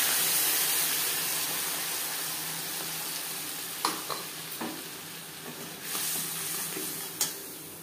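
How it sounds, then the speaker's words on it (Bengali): Nigella seeds and spice paste fry in hot oil left from frying fish, a continuous loud sizzle and hiss with a few sharp clinks of a spoon stirring the pan. "ফোড়নে দিয়ে দেবো কালো জিরে, কালো জিরে ভেজে নেওয়ার পর দিয়ে দেবো মশলা"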